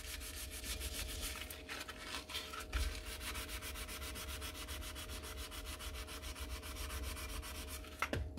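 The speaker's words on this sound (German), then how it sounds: "Wenn ich es jetzt hier so rausschleife, dann habe ich halt den Rost weg" Sandpaper rubbed by hand over rusty metal gives a steady, close scraping rasp in fast back-and-forth strokes that runs the whole time, with a few brief knocks and no voices.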